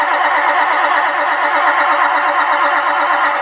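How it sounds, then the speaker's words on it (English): Engine cold start effect from a Beier sound module: a steady, loud, continuous engine drone at a single idle pitch throughout, with no speech. "We have the engine cold start sound by clicking this green arrow."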